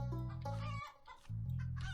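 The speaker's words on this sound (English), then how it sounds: "So let's play our chicken friends." Chickens clucking in the farming card game Terracards: two loud bursts of chicken clucks separated by a brief pause, close and with nothing else over them.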